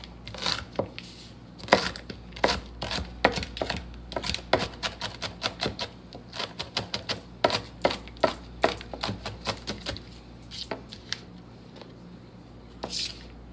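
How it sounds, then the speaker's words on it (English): Jalapeños are diced with a knife on a cutting board, giving rapid, crisp chops in quick runs and short pauses, close and distinct, with brief moments of talk. "actually going to dice the jalapenos as well,"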